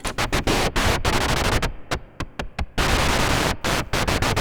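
White noise run through an Erica Black modular synth filter, a loud hissing wash chopped into rapid irregular bursts and gaps, with no voices.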